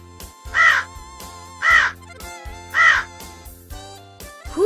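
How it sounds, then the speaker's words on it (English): Three loud, evenly spaced caws from a crow, each harsh and drawn out, with a short gap between them and no talk over the calls. "Crow."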